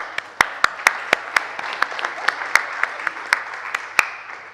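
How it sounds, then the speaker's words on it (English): Slow, sparse applause at a science and ethics conference: a small audience clapping in loose, separate claps over a steady room hiss, each clap sharp and distinct, with no one speaking. "So, we applaud."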